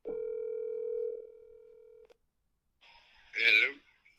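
A telephone dial tone holds steady for about two seconds, then a short silence gives way to a quick burst of touch-tone dialing beeps, all heard clearly with no voices.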